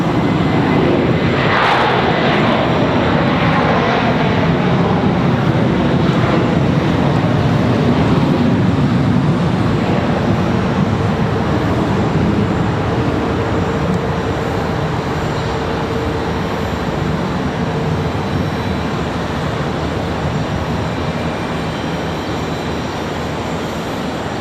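Jet airliner departing Charlotte Douglas International Airport, a loud sustained engine roar building and holding with a broad rumble and rising whine, steady throughout with no talk.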